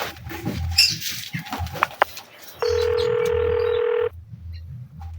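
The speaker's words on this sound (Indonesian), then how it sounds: "Bagaimana kalau kita hubungi Bung Karno terlebih dahulu?" A steady telephone tone holds for about a second and a half during a staged school history drama about the Indonesian proclamation, set between faint rustling room noise.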